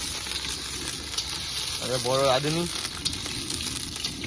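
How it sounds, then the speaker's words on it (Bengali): Potatoes fry in oil over a high gas flame with a continuous hissing sizzle close by, while a voice briefly speaks over it midway. "আলু দিচ্ছি রিতমদা, আলু ভাজা হচ্ছে।"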